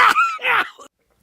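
Two or three harsh coughs in quick succession, close and fairly loud, followed by silence.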